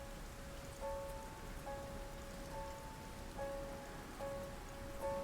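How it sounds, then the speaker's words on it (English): Soft, steady rain falls as quiet background ambience for a tabletop role-playing session, accompanied by a faint recurring pattern of gentle chime-like tones at regular intervals, with no voices. "you see rain and just mist"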